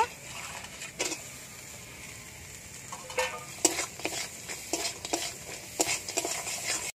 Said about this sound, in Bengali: সামান্য জল, মশলার সঙ্গে দাঁড়াগুলো ভেজে নেব।